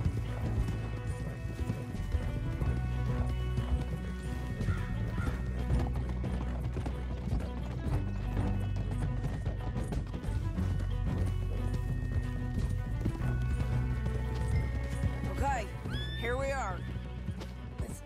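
Horses gallop with rapid, steady hoofbeats under a musical score in Red Dead Redemption 2, and near the end a horse lets out a sharp whinny.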